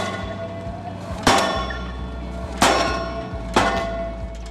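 Reduced-volume recording of offshore monopile installation at sea, three heavy metallic clanging strikes at regular intervals of about one and a half seconds, each ringing out over a low, constant rumble.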